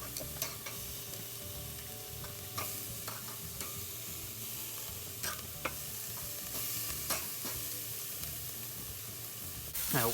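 Burgers sizzling on a grill over open flames, a continuous close hiss and crackle with occasional sharp pops and scraping stirs.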